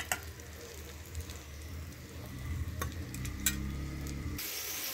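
Hot oil with ground spices is poured over fried bitter gourd. It gives a soft, faint, continuous sizzle with light scraping, and the hiss brightens near the end. No one speaks.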